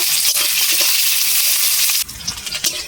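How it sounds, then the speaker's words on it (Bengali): Chopped onions sizzle loudly in hot oil while being stirred, a dense, close crackling hiss that cuts off abruptly partway, leaving quieter scraping and spattering. "পেঁয়াজটা ভালো করে একটু নেড়ে চেড়ে ভেজে নেব।"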